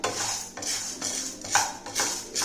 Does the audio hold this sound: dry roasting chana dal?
yes